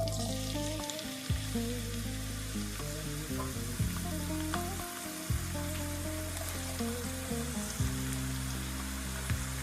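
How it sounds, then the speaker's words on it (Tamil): Onions frying in oil in the same pan used for an Arabian chicken maklouba, a steady hiss and crackle running throughout under a loud background hum, without speech. "இதே எண்ணெயில் ஆனியனையும் பொரிச்சு எடுத்துக்கலாம், ஃப்ரை பண்ணிடணும்."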